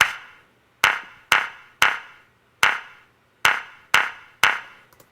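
A basic clap sample processed with Ableton 9's Filter Delay for stereo widening: eight crisp claps in a loose rhythm, each trailing off in a longer, fuller decay, with a faint flutter at the end.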